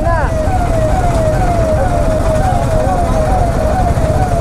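An ambulance siren wails continuously in a stalled traffic jam, its rising and falling tone sweeping repeatedly over the low rumble of idling vehicles and road noise.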